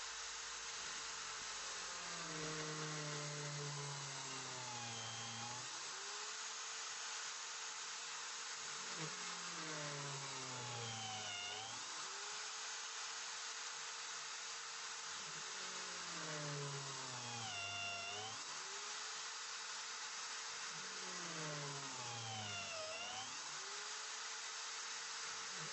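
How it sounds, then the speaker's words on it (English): A power drill fitted with a plug cutting bit bores into a scrap offcut of oak, its motor whining in repeated rising and falling bursts as each plug is cut, several passes in a row, close and steady. "I have a special plug cutting bit for the drill"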